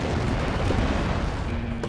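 An explosion in the video game Plants vs. Zombies 2 rumbles as a dense, continuous booming roar, loud and close, holding steady for about two seconds with no voices over it.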